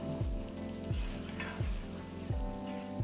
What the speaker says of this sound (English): So just mix the vegetable along with the masala.